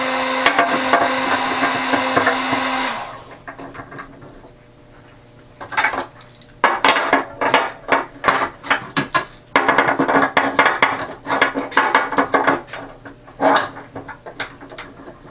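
Clamps tighten on a foam-cored PVC recurved reflex longbow. Steady noise cuts off, and after a quiet pause come many sharp, close clicks and knocks in quick, uneven bursts.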